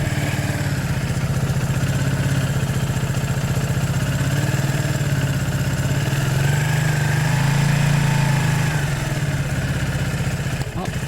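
A Zontes motorcycle engine idles on choke while warming up, a steady, loud, close mechanical putter with a fast even pulse that holds unbroken for the whole stretch.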